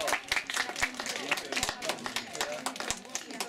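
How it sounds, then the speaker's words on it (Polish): Village audience at a spring welcome celebration in Wróblewo, Poland, claps in a dense burst of overlapping handclaps that runs steadily throughout, moderately loud and close. "Brawa!"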